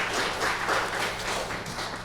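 Audience applause at a Korean seminar marking a vulnerable workers' health promotion center's second anniversary in Ulsan, a steady wash of many hands clapping that holds for about two seconds, fairly faint and without talk over it.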